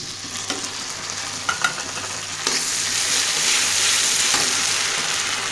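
Fried onions with ginger and garlic paste in a pan, a few spoon taps and stirring scrapes over a steady sizzle that grows louder and denser after the paste goes in.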